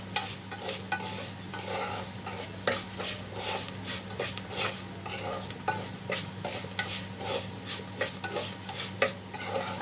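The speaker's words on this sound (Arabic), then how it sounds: "لسه بقى ايه نحمر الرز شويه كمان" Rice stirred and toasted in a pan with a little salt, with a continuous close sizzle and steady scraping stir strokes throughout, no talking.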